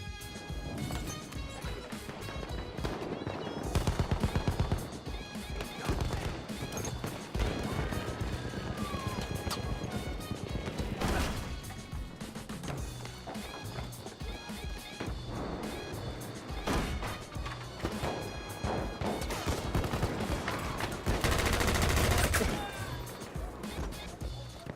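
Hip-fire from the Annihilator submachine gun in Battlefield 1 during a team deathmatch, dense rapid bursts of gunfire over a busy, chaotic battlefield mix of explosions and movement, loud and continuous.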